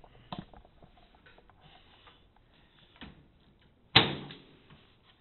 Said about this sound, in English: Alright, let's see how this door shuts.